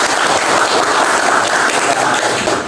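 A classroom full of students claps together, a dense, loud burst of applause that holds steady for a few seconds.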